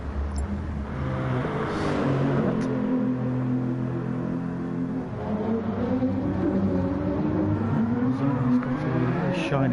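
Race car engines drone steadily in GT Sport at Monza, a Mazda among them, a continuous layered whine rising and falling in pitch as cars run close by without a break.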